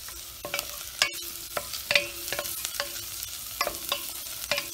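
Onions, green chili and chopped garlic frying in a pan, a soft continuous sizzle broken by repeated scraping strokes of a spoon stirring, close and clear, with no talking.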